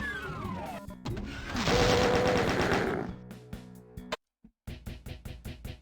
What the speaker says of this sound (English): I don't have to reload this chain gun.